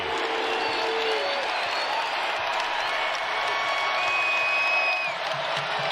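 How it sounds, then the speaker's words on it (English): Home crowd at a Tennessee college basketball game against Florida roaring after a three-pointer, a loud continuous wall of cheering and clapping with whistles and whoops, and sneaker squeaks rising above the arena noise. "And the Rocky Top crowd getting into it."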